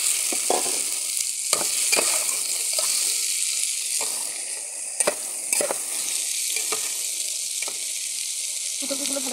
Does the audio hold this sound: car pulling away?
no